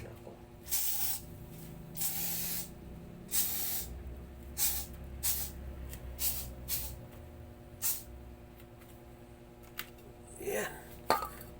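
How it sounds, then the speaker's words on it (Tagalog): An aerosol can sprays at bedtime in a room, giving about a dozen short, close hissing bursts at irregular intervals over a low background hum. "Bago tayo tulog, mag-spray muna tayo."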